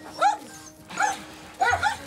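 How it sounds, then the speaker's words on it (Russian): Short-haired dogs at an animal shelter bark during a morning walk outdoors, three sharp, close barks spaced evenly over a couple of seconds, with no talking. "Это часть собачек у нас гуляет."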